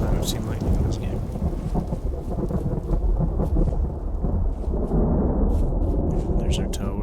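Rolling thunder from a lightning storm in the video game Vintage Story rumbles loudly with rain hiss, a continuous heavy storm bed with a few sharp crackles.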